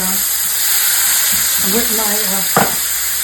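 Diced green peppers hit a pan of frying liver for a Southern-style gravy with a loud, steady sizzle and hiss, punctuated by brief stirring clatter and a short voice under the frying.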